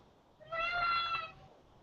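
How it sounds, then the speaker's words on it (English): A house cat lets out a single clear, drawn-out meow lasting under a second, fairly close and moderately loud over a quiet indoor background. "That's right, Kitty. That would be my cat"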